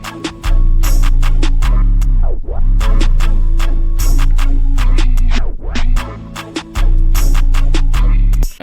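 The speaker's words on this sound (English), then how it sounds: "I added this tape stop effect just to switch it up a little bit" A jerk beat plays loud with heavy bass and punchy drums, and a tape stop effect twice drags the whole mix down in pitch to a slowing halt before the beat snaps back in.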